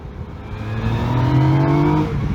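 A 2019 Yamaha Niken three-wheeled motorcycle, sharing its engine with the MT-09, accelerating under throttle, engine note rising steadily in pitch and loudness, close and continuous with no talk.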